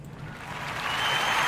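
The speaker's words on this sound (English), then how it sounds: "We want to give all the Neoborn a round of applause." Audience applause swelling into a steady wash of clapping hands, growing louder over a second and a half.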